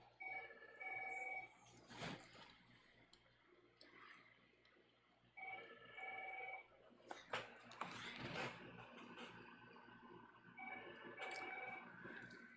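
A faint electronic ring repeats in three bursts separated by pauses, distant and quiet, mixed with a few clicks and knocks.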